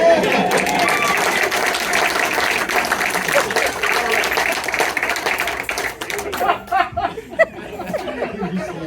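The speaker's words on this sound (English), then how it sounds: "It was universal applause." A crowd claps steadily for several seconds, mixed with chatter and a few chuckles, then the clapping thins out into scattered taps and voices.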